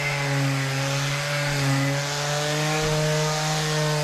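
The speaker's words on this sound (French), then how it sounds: "je vais déjà commencer à poncer le plateau." An electric power sander works a coffee table top made with tile adhesive, giving a steady close-up droning whine with a constant motor pitch and no talking.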